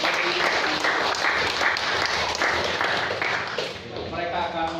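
Church congregation applauding at an elder installation service, steady dense clapping filling the room for several seconds before tapering, with voices murmuring underneath.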